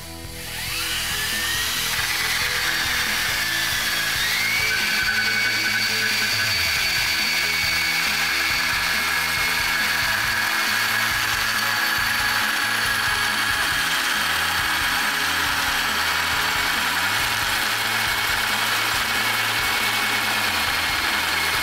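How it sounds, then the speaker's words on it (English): A hole saw in a tube notcher bites into steel tubing, making a steady, close grinding whine with a faint ratcheting chatter underneath. It holds at an even level for about twenty seconds. "We're going to rotate the tubing so the mark aligns with the teeth of the hole saw, so we have a correct and accurate notch."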